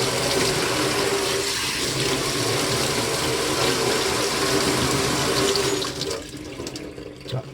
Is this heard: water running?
yes